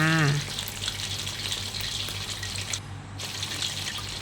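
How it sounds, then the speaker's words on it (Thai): Chicken wings coated in fish sauce fry over low heat in oil, giving off a steady, close sizzling hiss throughout. "ก็เปิดไฟอ่อนนะคะ นี่ ทอดไปเรื่อยๆเลยจ้า"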